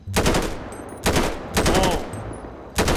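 Gunfire from GTA 5 roleplay shooting practice, four sharp bursts of rapid automatic shots separated by short pauses, loud and close.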